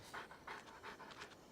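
A dog pants in the video game Genshin Impact, four quick rhythmic breathy huffs, soft and close, with nothing else heard.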